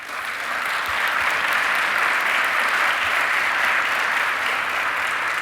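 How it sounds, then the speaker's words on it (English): Sustained applause from a conference audience honoring student scholarship winners, a dense wash of clapping hands that swells quickly and holds at an even, full level for several seconds. "So give them a big round of applause"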